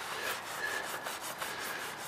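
A steady, close scrubbing of a heating oil stain on a wooden deck treated with a stain remover: rhythmic, rasping brush strokes repeat quickly and evenly with no voices.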